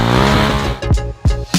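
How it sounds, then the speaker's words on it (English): A car drifts with its rear tire slipping, a loud engine roar punctuated by three short, sharp squeals as the revs surge and dip, close and without talk. "it's time to slip your rear tire"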